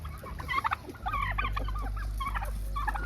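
Homestead turkeys gobble in rapid rattling bursts alongside chicken clucks, close and fairly loud over a low steady rumble of background noise.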